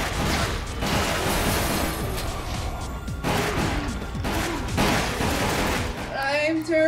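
Gunfire in the shooter game Resident Evil: The Umbrella Chronicles comes in rapid, overlapping bursts with crashes and mechanical clatter, loud and busy throughout, over a game soundtrack.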